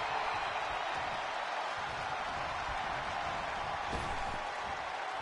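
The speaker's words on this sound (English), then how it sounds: "Sounds like an ECW crowd at times." A virtual arena crowd in the WWE 2K20 wrestling video game roars and applauds in a steady, washy wall of noise, with a brief louder burst near the end.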